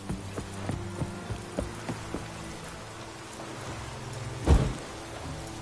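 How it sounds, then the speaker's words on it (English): Rainfall in the Witcher 3 video game: a steady patter of rain on surfaces with occasional clip-clop of horse hooves, plus one brief low rumble like distant thunder near the end, with no voices. "Looks like rain."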